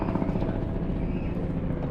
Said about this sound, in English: So see the helicopter?